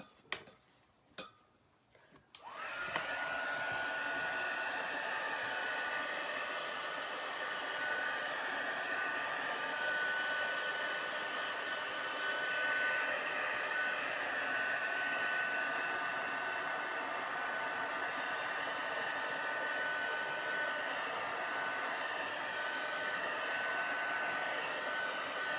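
A hair dryer runs steadily and close by, drying chalk paste on a stencil, its even blowing whine holding for over twenty seconds after a few brief knocks at the start.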